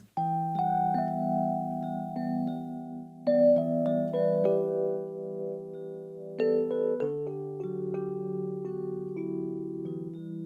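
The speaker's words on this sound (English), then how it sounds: "So very vibraphony type sound." Soft electric piano from Native Instruments Electric Keys Diamond plays mellow, bell-like chords with a vibraphone-style shimmer and gentle decay, alone and clear.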